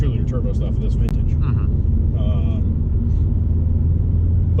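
A turbocharged two-litre JDM Subaru WRX engine drones steadily from inside the car as a low, loud rumble while it drives, with people talking over it.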